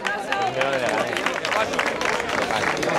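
Steady applause and clapping fill the air at a road-race awards ceremony in Leganés, with a lively crowd murmuring throughout and a presenter's voice amplified over the top.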